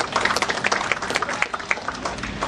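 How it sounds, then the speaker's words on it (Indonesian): An audience at a book discussion event applauds a man named Bang Hasan as he takes the stage, many hands clapping steadily and densely, with a few sharper individual claps standing out near the front. "tepuk tangan buat Bang Hasan"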